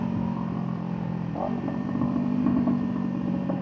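Kawasaki Ninja 500 motorcycle engine running at a steady idle with a low, even drone that swells slightly in the second half, heard close and without talk.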